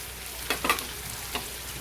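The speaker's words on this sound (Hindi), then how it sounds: "मसाला भून के हो गया। अभी क्या करेंगे, आलू डालेंगे" Potato pieces added to sizzling masala in a pan for a Kokani-style chicken curry, with a steady close fry hiss and a few soft stirring knocks.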